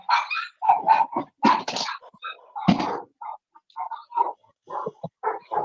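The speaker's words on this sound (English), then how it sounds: "whose dogs are out of control?" Dogs barking in bursts of sharp, loud barks close by, some overlapping, with short pauses between volleys.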